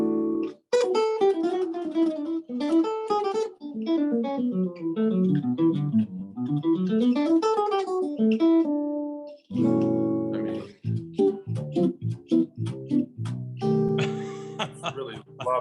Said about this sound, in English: I really love the sound of this guitar.